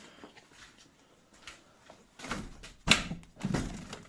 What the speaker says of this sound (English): Maybe let's open the door